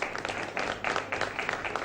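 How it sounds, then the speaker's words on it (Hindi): Scattered clapping from a small studio audience at a morning TV show, uneven bursts of hands patting together for a couple of seconds. "ऑडियंस किन को लगता है कि फवाद खान होंगे? तालियां बजा के बताएं।"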